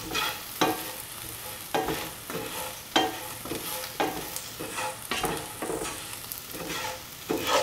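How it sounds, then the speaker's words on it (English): Prawn curry ingredients with turmeric powder and salt being stirred and mixed in a pan, a rhythmic series of scraping strokes roughly once a second over a soft sizzle, close and clear with no talking. "mix the turmeric powder into the rest of the ingredients"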